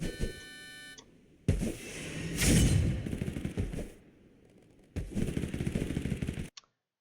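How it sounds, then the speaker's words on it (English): Bursts of gunfire from a video game, with a loud rapid volley in the middle and another sustained burst near the end, between stretches of quieter game ambience and beeps. "And now you hear gunshots to your right."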